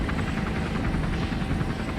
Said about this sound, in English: Over the sound of the helicopter